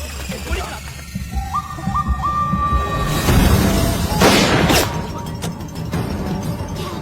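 Scattered gunshots and heavy booms burst out in a chaotic exchange, with a whistling tone and crashing impacts amid background noise.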